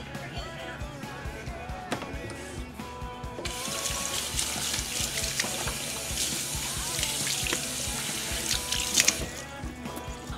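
Water pours steadily from a faucet into a sink, a broad splashing rush that grows fuller partway through, with faint clinks and drips.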